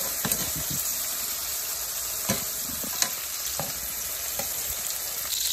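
Fish and shrimp frying in hot grease, a steady bright sizzle and hiss with occasional pops and bubbling, close and fairly loud, with no talking.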